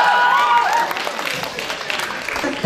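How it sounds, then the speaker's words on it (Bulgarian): Audience applause fills a gala concert hall for the Seasons 2012 young pop-rock performers' showcase: steady, dense clapping throughout, loud and close, with a brief tonal sound at the very start. "Аплодисменти за моята асистентка Краси."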